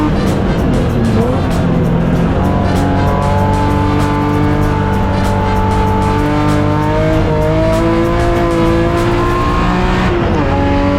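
Racing cars from a BMW M Performance Parts race series lap a circuit at a motorsport festival, engines droning and shifting pitch as they pass, steady and loud throughout with no pauses.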